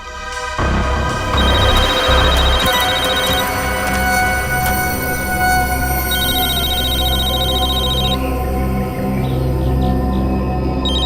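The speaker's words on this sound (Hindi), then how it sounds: "सर, फोन रिंग हो रहा है।" A mobile phone rings loudly and steadily with a repeating electronic ringtone, bright tonal bursts cycling over several seconds, close and alone without any voices.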